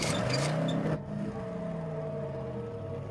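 Engine hum of a car driving in the Call of Cthulhu game, a steady drone with a faint higher whine, preceded by a brief burst of louder noise that cuts off abruptly.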